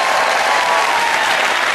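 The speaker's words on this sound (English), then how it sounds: "Why are they clapping?" A studio audience at a television chat show claps in dense, loud, continuous applause that fills the short moment with no break.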